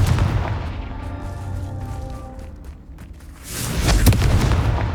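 A Confringo spell bursts in Hogwarts Legacy, rumbling boom-like blasts with a heavy low end, then a louder crackling explosion near the end, standing alone with no voices.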